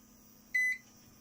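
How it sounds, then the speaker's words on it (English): A single short electronic beep from an uninterruptible power supply running on its batteries, a clean high tone lasting about a quarter second over a faint steady hum. "it's a bit annoying because it beeps, so it's actually running on the batteries right now"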